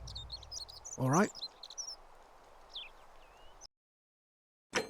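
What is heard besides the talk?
birds chirping loudly outside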